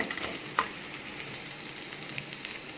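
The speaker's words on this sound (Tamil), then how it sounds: "இப்போ இது கூட எடுத்து வச்ச வெஜிடபிள்ஸ் எல்லாம் ஆட் பண்ணிக்கணும். இப்போ இது குக் ஆகணும்." Mixed vegetables frying in a pan with scrambled egg for egg noodles give a soft, steady sizzle throughout, with one sharp utensil clink early on.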